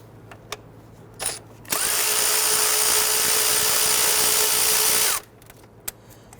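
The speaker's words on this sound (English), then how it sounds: "On the top side of our plenum here, we're going to remove the 10mm bolt here," A power tool spins out 10mm bolts from the upper intake plenum of a 2011-2017 Nissan Quest 3.5L V6, one loud, steady high whine lasting about three and a half seconds, with faint clicks before and after.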